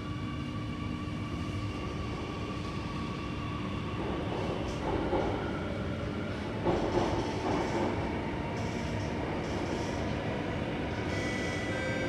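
A Singapore Circle Line MRT train running underground, a steady loud rumble and hum of the carriage in motion with faint rhythmic clatter, heard from inside the car.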